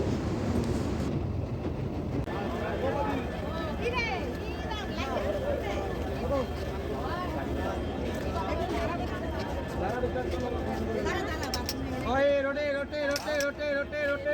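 Inside an overnight train travelling through North Bengal toward Darjeeling, a constant low rumble of the carriage on the tracks runs throughout, with passengers chatting nearby over it.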